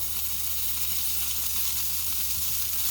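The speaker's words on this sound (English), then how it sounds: "I've already got this pan heating up. I'm going to put in a little dollop of butter." A dollop of butter sizzles in a heated pan, a constant close, bright frying hiss that holds steady throughout with no voices.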